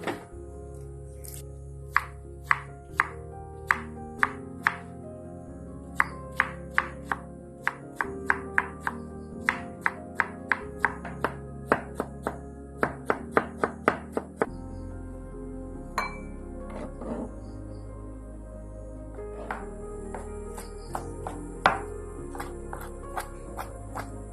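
A knife chops saba bananas on a board for pork blood stew in quick, irregular bursts of sharp clicks and thunks, pausing between runs, close up.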